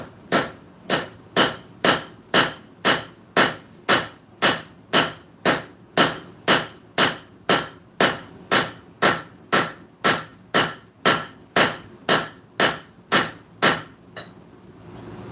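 Steady, evenly spaced hammer blows flatten hot metal on an anvil in a forging shop, about two strikes per second, close and loud sharp ringing impacts in a long unbroken series that stops near the end.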